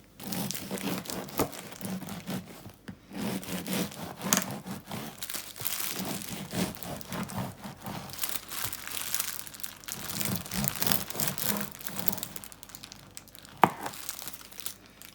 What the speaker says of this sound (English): I'm using a baguette or a French loaf, and I'm just going to be cutting it into slices.